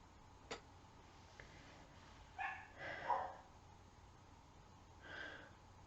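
Dogs bark indoors at some distance, a few short muffled barks in a loose cluster followed by one more, faint against a quiet room with a couple of small clicks.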